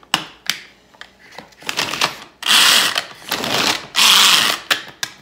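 A Crank Chop manual hand-crank chopper chops string cheese, producing irregular bursts of clattering, ratcheting blade noise with sharp clicks between cranks, loud and close with a pair of longer whirring runs toward the end.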